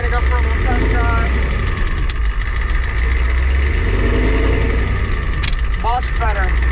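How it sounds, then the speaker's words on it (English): A car engine runs steadily through a nighttime test drive, loud and close with a low rumble that holds throughout, and a little louder with the shifter boot removed. Brief voices or chirps come in near the end. "it's nighttime, but we're gonna go for a little test drive"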